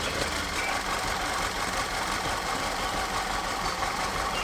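A car engine idles steadily during troubleshooting for a PCV and compression problem, a loud, even rumble running continuously with no voices.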